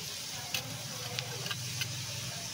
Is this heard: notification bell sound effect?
no